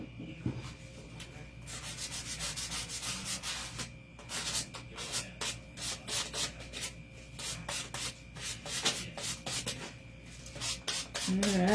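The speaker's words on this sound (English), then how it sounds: "I'm just sanding down the edges a little bit" Rhythmic scratchy rubbing strokes of sandpaper on the edges of a wooden house cutout, quick and repeated, close up with no talking.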